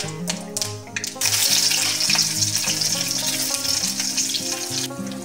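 Chopped onion dropped into hot oil with mustard seeds, frying with a steady loud sizzle that swells after a brief softer start, over a low background hum and no talk.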